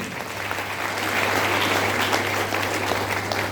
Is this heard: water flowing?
no